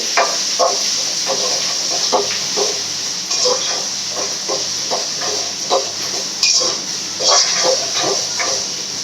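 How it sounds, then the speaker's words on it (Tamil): Onion and tomato sautéing in a pan for a chicken gravy, a constant steamy hiss with rapid, rhythmic spatula scrapes and taps, close up, no talking. "வெங்காயம் வதங்கிச்சு, தக்காளி போட்டுக்கலாம்"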